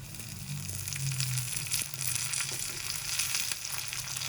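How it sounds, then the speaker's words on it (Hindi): Cumin and curry leaves frying in hot oil, a steady faint sizzle and crackle with small pops, continuous and close with no talking. "हमारा वो ज़ीरा कड़ी पत्ता फ्राई हो गया"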